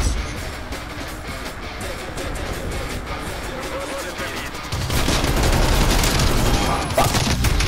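Sustained automatic gunfire from a sentry turret in Call of Duty, a dense continuous rattle that grows louder and fuller partway through, alongside other game combat noise.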